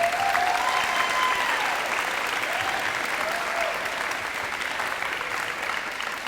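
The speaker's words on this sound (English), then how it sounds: "Let's give them one more big round of applause." A school gym or hall audience at a high school signing ceremony gives a sustained round of applause, dense steady clapping from a large crowd that holds for several seconds and eases slightly toward the end.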